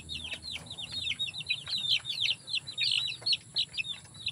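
Chickens cluck and chirp in a busy, continuous chorus of short calls, fairly close, with a faint low background hum.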